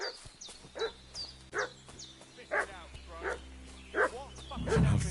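A dog barking repeatedly in the video game Kingdom Come: Deliverance 2: a series of short, spaced yelps and barks at moderate distance, mixed with game ambience and a voice speaking over them.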